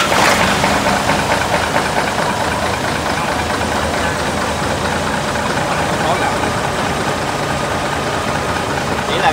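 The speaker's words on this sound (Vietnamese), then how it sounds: "nổ máy để các bạn xem cái khối nó như thế nào ha" A Hyundai 47-seat bus diesel engine fires up with a brief loud burst, then settles into a steady, close, rumbling idle that holds evenly for about nine seconds.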